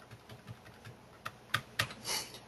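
A credit card number being typed on a computer keyboard, a run of light, quiet key taps spaced unevenly, with a few sharper clicks toward the end.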